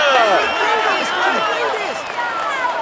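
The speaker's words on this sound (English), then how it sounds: "We applaud him loud." A crowd at the 2019 Tour de France podium ceremony cheers and shouts for the overall winner, with many overlapping voices in a steady, loud roar throughout.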